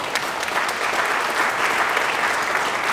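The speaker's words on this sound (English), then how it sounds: "that also deserves a round of applause" Steady, dense audience applause at a downtown association town hall meeting, continuous and fairly loud throughout the short stretch.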